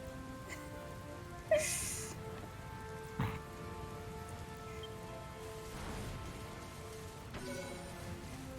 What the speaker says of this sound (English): I wonder why it is that the enemies always bring rain with them.